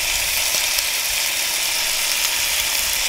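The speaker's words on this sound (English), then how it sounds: "And our steak is still cooking. It's still sizzling." Steak sizzling in a cast iron skillet, a bright, steady hiss and crackle of fat that holds evenly from start to end, with no one talking.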